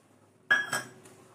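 Milk powder is stirred into a thickening badam burfi mixture in a pan, with a sudden close scrape and clink of a spoon against the metal pan followed by a second softer scrape, then a faint trailing clink.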